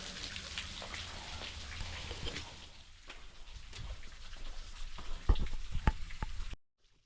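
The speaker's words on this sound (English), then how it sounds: "Just got a little more running water." Water trickles and patters steadily at Keystone Dam in Argo, a soft, close, continuous flow with a few sharper drips near the end before it cuts off.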